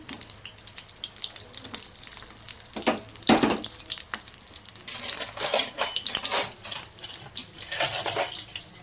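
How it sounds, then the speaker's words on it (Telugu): Green chillies fry in hot oil in a kadai, a steady sizzling hiss under loud, repeated clanks and scrapes of a spoon and metal utensils against the pan. "ఇంకా దీంట్లోకి అయితే పచ్చిమిర్చి అయితే వేసుకొని ఫ్రై చేసుకుందాం."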